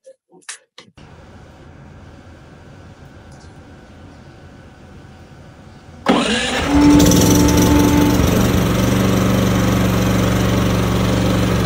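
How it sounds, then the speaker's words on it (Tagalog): A PK4200 automatic generator hums steadily at a low idle after a few clicks, then loads up abruptly into a louder, denser mechanical roar that carries on continuously. "Ay, may power yung generator."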